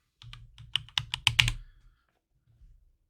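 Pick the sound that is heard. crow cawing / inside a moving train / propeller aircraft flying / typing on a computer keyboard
typing on a computer keyboard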